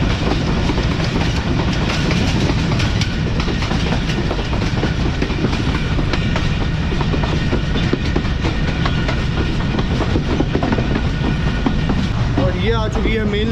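Mohen Jo Daro passenger train rounding a right-hand curve after heavy rain in Sindh, a loud steady rumble with rhythmic clickety-clack of wheels over rail joints throughout, and a faint squeal rising near the end.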